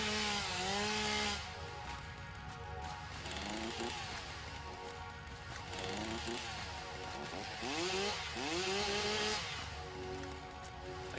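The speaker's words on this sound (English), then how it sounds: "I was trying to chainsaw something else" A chainsaw in the video game Satisfactory runs steadily throughout, its engine whine rising and falling in repeated swoops as it revs, with loud, continuous buzzing and no one talking.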